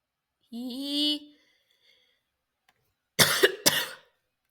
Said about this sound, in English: Excuse me for that coughing.